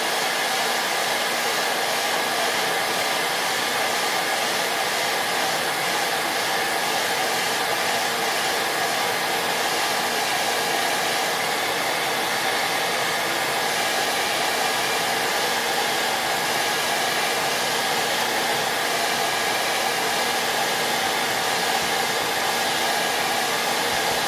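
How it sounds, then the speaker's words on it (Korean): A hair dryer blows steadily and loudly at close range while heating an iPhone 14 Pro to loosen its battery adhesive, making an unbroken airy whir with no talk. "드라이기를 그냥 여기에 그냥 계속 대주고 계시면 돼요."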